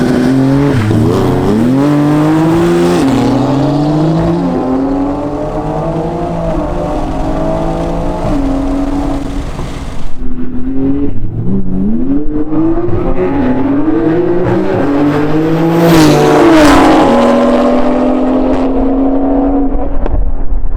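An 800 hp modified Toyota Supra drag racing a Porsche GT2 RS, with loud, close engines revving hard and climbing through rising gear changes, then a second burst of acceleration.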